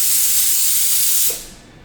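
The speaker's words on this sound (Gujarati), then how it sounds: "કઢી આપણી ઉકળી ગઈ છે, એની અંદર નાખી દઈશ 1 ચમચી જેટલું ઘી" Ghee poured into boiling Gujarati kadhi makes a loud, steady broadband sizzle that holds for over a second, then falls away to a quieter simmer.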